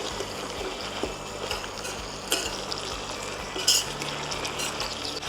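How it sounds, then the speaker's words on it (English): Curry leaves frying in a pan while being stirred, a quiet sizzle with intermittent scraping and light clinks of the utensil against the pan, close by, with no talking. "Give that a good stir."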